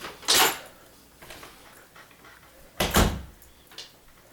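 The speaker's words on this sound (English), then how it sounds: "I heard the door" Two separate door bumps, each a short thud with a rattly clatter at about 0.4 and 3 seconds, followed by faint softer knocks nearby in an otherwise quiet room.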